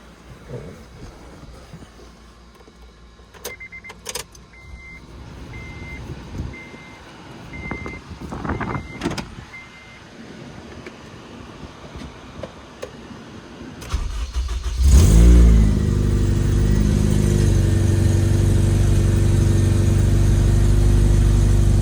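An Acura RSX Type-S fitted with a PLM header and exhaust is started after a quiet stretch of clicks and faint beeps, then settles into a loud, steady, raspy idle that fills the rest of the clip.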